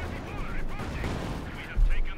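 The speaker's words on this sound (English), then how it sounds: "we've got a strafing run here." Cannon fire from a strafing run in the World War II strategy game Company of Heroes 2, a dense roar of rapid battle shots running throughout, growing louder and heavier near the end, with a commentator's voice talking over it.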